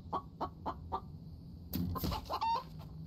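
A chicken in The Infected survival video game clucks in a steady series of short, evenly spaced calls, then gives a louder, flurried squawk burst, heard close with no talk.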